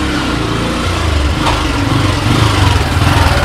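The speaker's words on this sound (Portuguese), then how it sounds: "Ó, a moto tá chegando aí, a moto, olha a moto." A motorcycle approaches with a loud, steady buzzing engine drone that swells slightly toward the end, close and continuous throughout.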